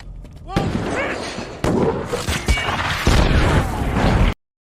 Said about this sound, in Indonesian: Dan tiba-tiba terjadi ledakan